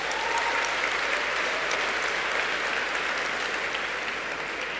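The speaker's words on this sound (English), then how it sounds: "Let's give them a round of applause." Steady, dense applause fills a large room at an Elton John AIDS Foundation dinner, a continuous wash of many hands clapping at an even level throughout.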